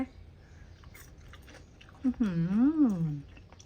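Close chewing of crispy fried tofu balls dipped in dipping sauce, soft crunchy bites with a brief voiced hum of approval in the middle.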